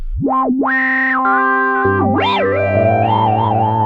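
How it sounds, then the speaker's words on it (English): UDO Super Gemini synthesizer playing a high-resonance filtered tone, its sharp resonant peak sweeping up and down in swoops over a steady held note, loud and close, saturated but smooth. "So you can do these high resonant sounds"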